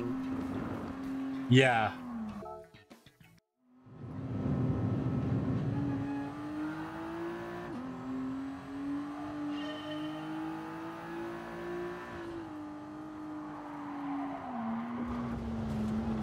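A race car engine in Gran Turismo Sport on the Nürburgring, driven in VR: a steady, loud droning tone that rises and dips with throttle and shifts, with a brief passing roar early on and someone talking over it.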